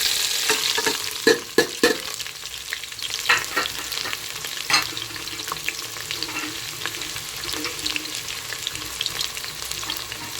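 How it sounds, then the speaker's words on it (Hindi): Finely chopped onions fry in hot oil, a steady loud sizzle broken by sharp scraping clacks of a spoon stirring through the pan, no voices. "प्याज को ब्राउन करना है, बहुत अच्छे से ब्राउन करना है इसको चलाते हुए"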